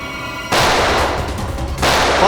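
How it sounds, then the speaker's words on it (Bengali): In a CID crime drama scene, a loud burst of rapid gunfire cuts in abruptly and runs for over a second, then breaks off briefly and starts again. No one speaks. "সিআইডি অফিসারকে গুলি করে দিলি?"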